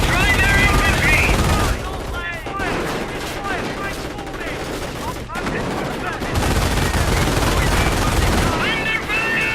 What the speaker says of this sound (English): they add additional firepower to the half-track's own machine gun